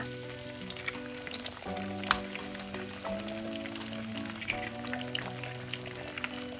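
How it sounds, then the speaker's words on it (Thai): Two eggs hit hot oil with chopped garlic in a pan, a steady close sizzle and crackle with soft stirring, no talking. "ผัดกระเทียมจนกระทั่งมีกลิ่นหอม ใส่ไข่สองฟองค่ะ"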